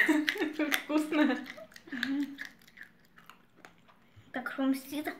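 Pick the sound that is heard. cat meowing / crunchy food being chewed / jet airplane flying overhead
crunchy food being chewed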